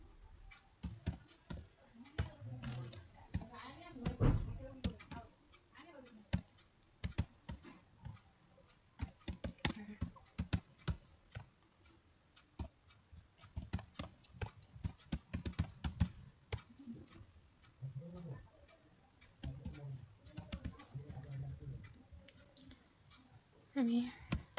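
Fast typing on a computer keyboard while building a table in Microsoft Word: dense, close clicking in uneven bursts and pauses, with a voice speaking at times.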